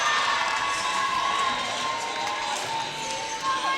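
A crowd cheers and shouts at a high school girls' volleyball section final, with a steady, dense roar of voices that holds throughout and swells slightly near the end.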